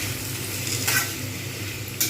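Cut potato pieces sizzling in oil in a pan, a steady frying hiss broken by a couple of brief scraping stirs.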